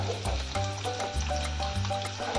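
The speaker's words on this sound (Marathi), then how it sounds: "कांदा चांगला परतवून घेऊयात" Finely chopped onion sautés in a pan over bloomed cumin for a Bhogi mixed-vegetable dish. A steady close sizzle runs throughout, with a low tonal hum layered beneath it.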